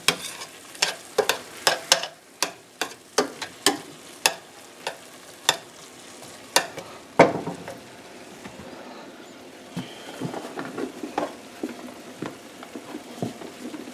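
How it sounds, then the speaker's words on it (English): Butter sizzling as it melts in a pan for coq au vin gravy, with a run of sharp scraping and stirring taps over a soft frying hiss, fairly close and moderately loud, no talk. "let's get this butter melted"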